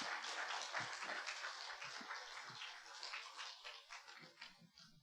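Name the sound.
church congregation applause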